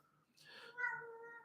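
A house cat gives a single drawn-out meow, rising then trailing off, close but quiet in an otherwise hushed room.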